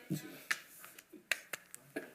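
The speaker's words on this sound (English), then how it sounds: "It's no longer a clicker, it's a clap." Sharp hand claps in a city commission meeting room, used to advance presentation slides: several separate claps at uneven intervals, fairly faint and alone with no talking.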